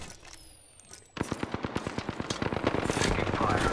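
Rapid automatic gunfire from the video game Apex Legends bursts in after a quiet second, a dense stream of loud, closely spaced shots that keeps building under faint background effects.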